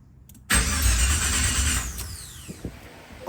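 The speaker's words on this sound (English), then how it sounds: "the car did not start" A 1987 Chevrolet Monte Carlo SS engine cranking without catching, a loud, close starter whir that runs about a second and a half, then fades to faint clicks and mechanical noises.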